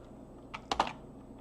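A few quick keyboard keystrokes typed on a computer in a quiet room, a short clustered burst of clicks near the middle, close and moderately loud over a faint steady hum.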